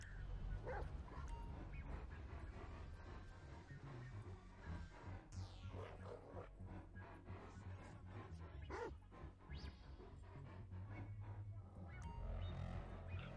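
In Grand Theft Auto V, the dog Chop barks, yips and whimpers: scattered short barks and whines in quick bursts, mixed with game sounds and a low rumbling background, moderately loud.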